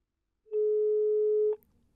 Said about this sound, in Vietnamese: Điện thoại đổ chuông mà người không nghe máy